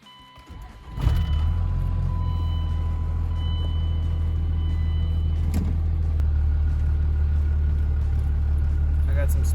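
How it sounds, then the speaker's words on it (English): A Ram 2500 pickup fitted with King shocks and Thuren coils rolls over speed bumps in an apartment complex, its engine a steady low rumble that swells early on, while someone talks inside the cab. "Some speed bumps right here in my apartment complex, so that'll be a good test to see how stiff the coils are."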